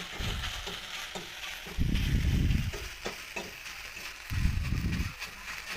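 Three chopped green chillies fry in a hot, smoking pan for a bitter gourd curry, with loud swelling sizzles and scraping stirs coming in bursts, close up and with no talk.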